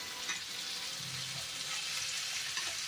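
Chicken pieces for chicken tikka masala sizzle steadily in hot oil as they are gently stirred, a continuous close hiss with soft scraping and no voices.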